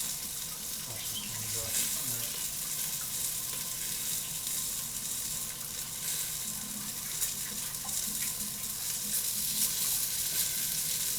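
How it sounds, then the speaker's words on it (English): Chopped onions fry in olive oil for orange rosemary chicken, giving a continuous, fairly loud hissing sizzle that stays even from start to finish. "I'm going to use olive oil to get it started with the onions."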